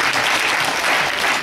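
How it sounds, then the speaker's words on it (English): A church congregation claps their hands in loud, continuous applause during a service, a thick unbroken roar of many hands. "Clap your hands for"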